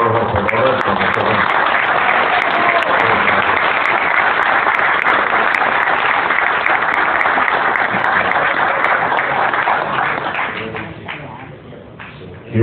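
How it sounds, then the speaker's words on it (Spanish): Long, loud applause from a hall audience honoring radio operators at a radio station's 50th anniversary tribute, dense and sustained before thinning out toward the end as a few claps linger. "Yo quiero pedir un aplauso para los operadores."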